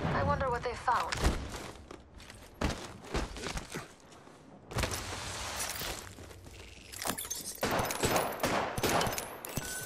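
Gunfire in a battle royale video game: rapid bursts of shots and sharp cracks come in clusters with brief lulls, loud and close, as a voice talks over parts of it.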